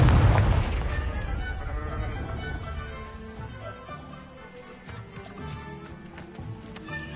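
A Confringo blasting-curse explosion from the Hogwarts Legacy video game on PS4 bursts loudly at the start as a deep boom, then fades into a lingering rumble with scattered crackles and game sounds.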